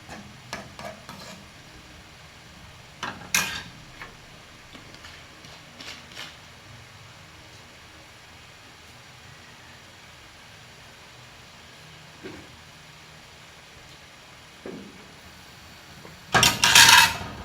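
A spoon stirs chicken and tomato stew in a cooking pot, producing a few scattered scrapes and clinks separated by quiet stretches, then a louder burst of stirring right at the end.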